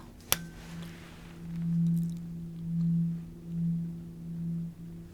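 After a sharp click, a low steady hearing-test tone hums and swells in slow pulses, four gentle rises in loudness, with no talking.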